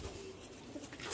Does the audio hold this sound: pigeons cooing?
yes